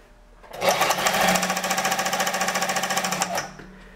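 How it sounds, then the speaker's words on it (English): A portable Barracuda 200ZW zigzag sewing machine revs up and winds its bobbin while sewing. Its rapid, even mechanical chatter runs for about three seconds, then stops. "Continue to sew and your bobbin will wind."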